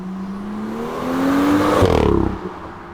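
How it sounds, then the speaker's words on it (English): A sports car fitted with a new aftermarket downpipe revs hard nearby, its engine note climbing steadily before a sharp, crackling peak and a quick drop back down. "This new downpipe made the car sound so good that it was worth every penny."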